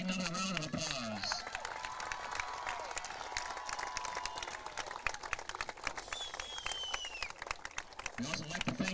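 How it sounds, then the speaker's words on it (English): A crowd at a high school homecoming football game applauds and cheers for the ten members of the homecoming royalty, with broad clapping from far off in the stands, mixed with outdoor noise and talk over a PA system. "Let's give everybody out there, all 10 of the royalty, another round of applause."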